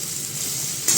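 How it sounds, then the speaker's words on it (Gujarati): Potatoes and kantola (spiny gourd) pieces frying in hot oil in a pan, a steady close sizzle with stirring, rising briefly louder near the end as the vegetables are tossed. "હવે આપણે એમાં બટેકા નાખશું ને બધું મિક્સ કરશું."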